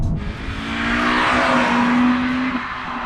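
The high-revving engine of a Honda Civic Type R FN2 climbs steadily in pitch as VTEC engages, a sustained loud rev building over a few seconds before easing off, with no talk.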